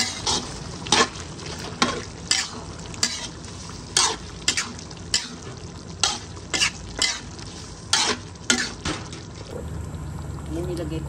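Pork menudo with tomato sauce being stirred in a frying pan: regular scraping strokes of a utensil against the pan roughly every second over a steady low sizzle, close up, with a voice talking faintly at times.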